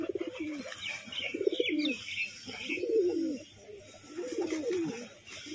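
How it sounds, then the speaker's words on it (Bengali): Pigeons at a bird market coo repeatedly in rolling, throaty phrases about once a second, fairly close and steady, with faint chirps above and no talking. "খুব সুন্দর স্টাইলের পায়রা।"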